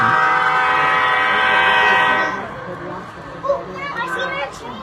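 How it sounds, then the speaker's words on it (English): A model railroad train runs on a large club layout, a steady rumbling and whirring that fades after a couple of seconds, with crowd chatter and voices in the background. "I see that train coming there."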